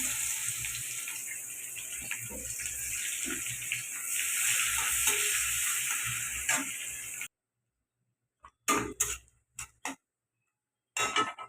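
Onions sizzling in hot oil with black cumin, after fish has been fried in the same oil while cooking off-season hilsa. A steady, close frying hiss runs for about seven seconds, then stops, followed by a few short clattering bursts.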